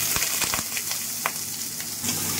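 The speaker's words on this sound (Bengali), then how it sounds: "এবার আমি পেঁয়াজটা ছেড়ে দিই।" Sliced onion hits hot oil in a pan and gives a steady, close sizzle with crackles. Light stirring clicks sound over it, and no one speaks.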